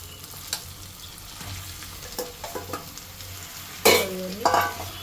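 Marinated chicken frying with browned onions in a pan for a chicken curry, a soft continuous sizzle under scattered metallic stirring scrapes and one louder clatter near the end, close by and without speech.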